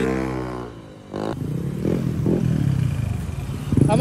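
A black Honda Click 125 scooter with bolt-on parts rides past on a test run, its engine droning steadily up close with a rising rev and some rattling clatter.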